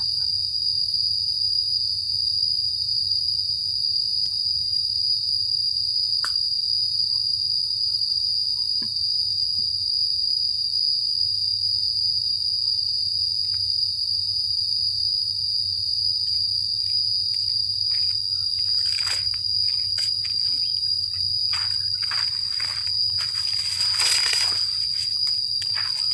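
Crickets chirp loudly and continuously at a pond beside a rice field, a dense steady high trill running throughout, with a low hum underneath and a few brief rustling noises near the end.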